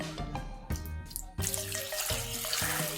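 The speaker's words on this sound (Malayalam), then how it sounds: "കുറച്ച് വെള്ളം കൂടെ ചേർത്ത്" Water added to a cooking pot in a Kerala kitchen, a close, splashing stream that cuts in and out in a few short pours.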